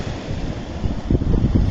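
Strong waves break at the shore while fishing at the water's edge, a loud continuous wash and surge heavily mixed with gusty wind buffeting the microphone.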